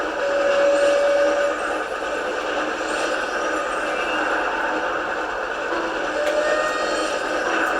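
A train rumbles along in the Harry Potter and the Chamber of Secrets game on PS1, a steady mid-range roar with a brief high whistle-like tone at the start and rattling on top.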